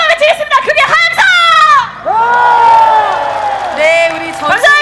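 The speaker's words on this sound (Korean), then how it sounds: "우리 이재명을 비치면서 함성 외치겠습니다. 그게 함성!" A crowd at a Democratic Party election rally for Lee Jae-myung at Geumneung Station in Paju shouts and cheers loudly. Voices rise in sustained, overlapping whoops and yells.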